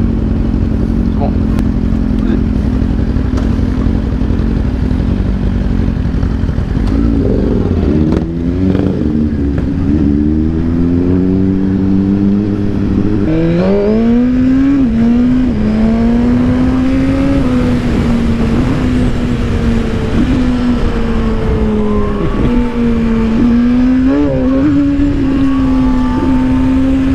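A Suzuki GSX-R motorcycle engine runs unevenly with a loud, continuous stuttering drone whose pitch surges and sags as it bucks and judders, close by, with voices talking over it on a road in Dakar.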